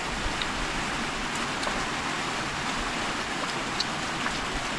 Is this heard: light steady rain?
yes